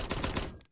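Rapid gunfire from the mecha action video game Cavalry Girls, a short loud burst of several overlapping shots that cuts off abruptly.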